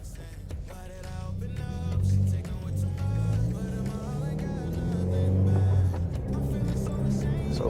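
A 2020 Subaru WRX drives in the early morning, its engine a steady low rumble with gentle swells as it pulls along the road, continuous and close, with a faint hum of road noise throughout.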